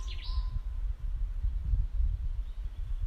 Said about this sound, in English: These wonderful trees and just birds are singing.